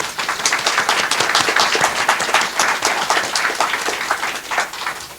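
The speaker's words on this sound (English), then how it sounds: "Let's give them a hearty round of applause." Steady applause from a studio audience at a community radio show, dense overlapping claps sustained evenly for several seconds with no voices over it.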